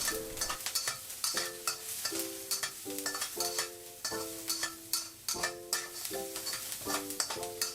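Minced garlic stir-fries in a hot pan, with rhythmic spatula strokes that scrape and ring against the metal over a constant sizzle, fairly close and without speech.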